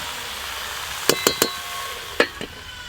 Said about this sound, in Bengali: লবণ, হলুদ গুঁড়ো, চাপা দিয়ে দিয়ে ভালো করে ভেজে নেব।